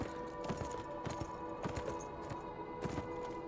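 A horse's hooves clip-clop in a steady, fairly quiet rhythm of distinct knocks over a faint background hum, with no voices.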